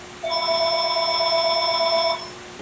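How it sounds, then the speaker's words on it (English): A house telephone rings in one steady electronic trill for about two seconds, loud and close, inside the room where a city council meeting is being held, with no talk over it. "can somebody please shut the phone off?"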